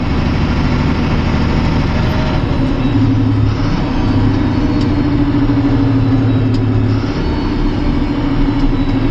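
A truck rolls along at about 40 km/h during a road test, giving a steady, loud engine and road drone that stays even throughout with no pauses.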